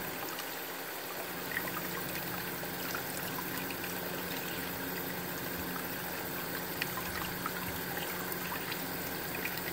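A small terrarium waterfall trickles and splashes continuously during a baby savannah monitor's bath, a steady close wash of running water with no break.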